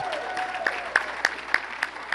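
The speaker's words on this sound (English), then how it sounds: "Please give her a round of applause" Scattered applause from a gala audience greeting an award namesake, with individual claps spaced out over a steady room hum, moderately loud and fairly close.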